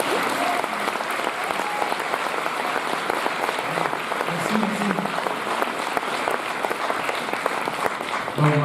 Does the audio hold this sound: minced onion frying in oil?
no